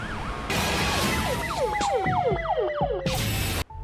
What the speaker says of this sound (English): Schmidt responds urgently with his lights and sirens to the scene